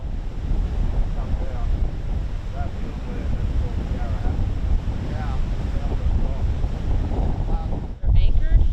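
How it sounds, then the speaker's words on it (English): Strong wind at sea buffets the microphone along Australia's coast, a rough, steady roar over rolling surf, with people talking faintly beneath it and a louder gust toward the end. "the weather turned rough, the wind picked up"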